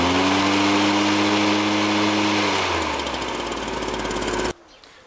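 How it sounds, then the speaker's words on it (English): The petrol engine of a PC500 paddock cleaner roars close and loud while its pitch shifts as the revs change, then cuts abruptly to near quiet. "To increase the revs of the machine,"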